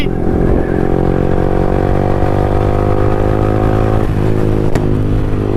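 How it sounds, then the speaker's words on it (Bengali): Superbikes such as a Kawasaki Z900, Benelli 600i, KTM Duke 390 and Yamaha R15 ride at a drag race. A loud, close engine drone holds steady with a deep harmonic rumble and only slight shifts in pitch. "ভাই সাহাব গাইস সবাই সুপার বাইক চালাচ্ছে, আমি কি চালাবো না?"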